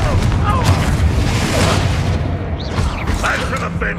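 A Confringo fire spell blasting in the Hogwarts Legacy video game, heard as a dense, loud rumbling roar of booms and mechanical crackle with voices talking over it.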